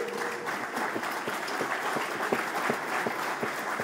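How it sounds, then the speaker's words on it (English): Crowd applause at the unveiling of the 2013 Force India VJM06 Formula One car, many hands clapping in a steady, moderately loud patter with sharper individual claps standing out. "think that deserves a round of applause, don't you?"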